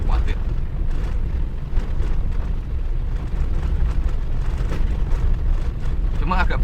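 A diesel-engined vehicle climbs a slope on uneven paving, its steady rumbling drone loud and continuous with rattling over the bumps and gusts of wind noise throughout.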